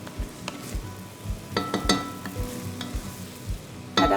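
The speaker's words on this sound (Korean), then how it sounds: "밥이 끓으면 한번 뚜껑을 열고 휘저어줘야 돼요. 그래서 바닥까지 한번 긁어주세요." Spoon stirring and scraping the bottom of a pot of boiling bean sprout rice, with a rapid series of close, clattering scrapes and knocks over a low bubbling simmer.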